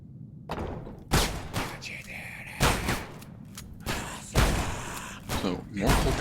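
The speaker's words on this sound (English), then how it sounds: "So, more cultists are firing on somebody" Gunfire from cultists in a horror video game, several loud broadband bursts spaced roughly a second apart, with quieter rumbling and scattered thuds between them.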